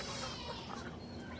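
Country hens clucking close by, including a bald-necked (naked-neck) village hen, with a steady low background murmur and no speech.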